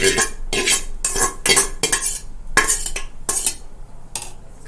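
A spoon scrapes and clinks inside a pot as chicken dum biryani made with basmati rice is tossed with masala. About nine loud, close strokes come in a rough rhythm, separated by short pauses, with no voices.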